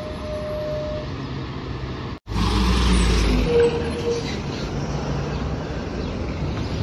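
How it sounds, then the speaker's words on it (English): A New Flyer number 3 city bus passes close by at a Norwalk, Connecticut train station with a swelling engine roar and road rumble, then a steady traffic drone. "Here goes the number 3 bus."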